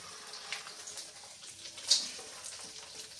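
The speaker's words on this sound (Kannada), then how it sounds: "ಹಾಕ್ಕೊಂಡು ಸ್ವಲ್ಪ ಹದವಾಗಿ ಹುರ್ಕೋಬೇಕು." Raisins, cashews, seeds and fennel frying in a pan give off a soft, steady sizzle with faint stirring scrapes and one brief brighter crackle, quiet and close with no talk.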